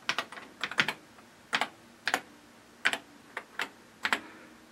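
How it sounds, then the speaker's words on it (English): Keys clack on a TRS-80 Model 4 computer keyboard in short irregular bursts of two or three strokes, close and crisp against a quiet room. "Yes, I'm aware I could append two lines to the basic program to make it run, but this is actually less typing."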